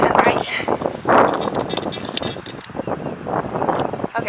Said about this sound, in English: Here, there's a lot of wind. You can hear it